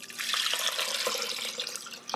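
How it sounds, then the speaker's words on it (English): Six cups of water pour steadily into a cooking pot, a continuous bright splashing rush with small gurgles, close up and unbroken, with no voices. "And 6 cups of water."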